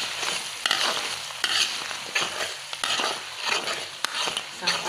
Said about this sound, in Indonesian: sekarang kita goreng terinya ya guys